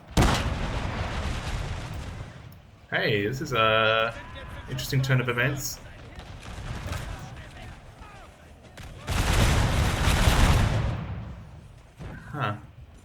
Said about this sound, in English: Just look at all those dead bodies here just from the cannons.